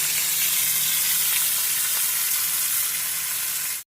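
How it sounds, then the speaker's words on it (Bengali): Fish dusted with salt and turmeric frying in hot oil gives a loud, steady, close sizzle that holds evenly for several seconds before cutting off abruptly, with no voices. "এই দেখো তেল গরম হয়ে গেছে, এর মধ্যে দিয়ে দিচ্ছি মাছগুলো, ভাজা হয়ে যাবে।"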